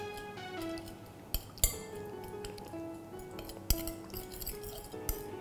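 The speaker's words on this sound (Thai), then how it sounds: "ใช้ช้อนกดน้ำพริกเผาให้กระจายก่อน" A spoon clinks and scrapes against a dish while pressing roasted chili paste to spread it for a Thai grilled chicken salad, with several sharp close taps over soft scraping and no talk.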